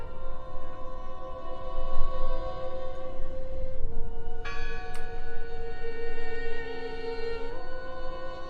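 A church bell rings in the horror game Draugen, its sustained tolling tones hanging over a low ambient rumble, with a fresh strike partway through and no talking.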